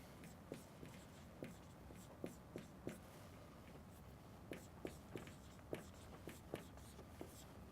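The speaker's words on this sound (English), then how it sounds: "Let me write that out again." Writing on a board during a lecture produces faint, quiet taps and short strokes in an irregular rhythm, soft and close, with no talking.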